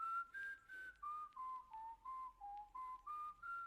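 A clear melodic whistle opens a song, a run of about ten short, evenly paced notes gently stepping down and back up in pitch, alone with no voices.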